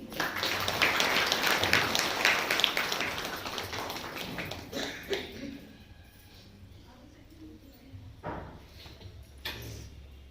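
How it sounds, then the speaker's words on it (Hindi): An audience at a Brahma Kumaris class claps, a dense burst of applause that is loud at first and thins out over several seconds into a few scattered claps and taps. "ताली बजा दो।"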